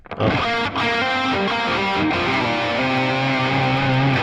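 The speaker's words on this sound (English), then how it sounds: "we might have gone like a touch heavy on the reverb there" An electric guitar played through an Axe-Fx III rings out in sustained, distorted chords, washed in heavy reverb and echo that blur the notes together.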